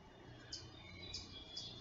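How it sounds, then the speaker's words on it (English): Three faint, high, sharp chips from a chipmunk ring out at roughly even intervals over a quiet spring forest background. "there's a chipmunk chipping."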